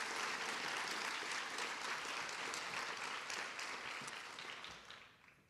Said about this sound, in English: She's in the back, so a big round of applause for Claire.